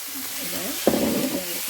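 Fenugreek sprouts sauté in a pan, with a soft background hiss. Partway through, a louder sizzle bursts up and then settles into steady frying.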